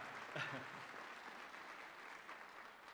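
At a Berkeley physics commencement, an audience keeps applauding in a steady crowd clap, with a brief voice rising over it near the start before the clapping carries on evenly.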